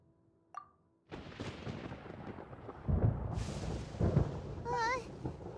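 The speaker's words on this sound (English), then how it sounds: "Paimon hears thunder!" Thunder in the video game Genshin Impact rolls in as a sudden low rumble that swells and crackles for several seconds after a brief plop. A voice speaks, and a chirpy chime-like tone sounds near the end.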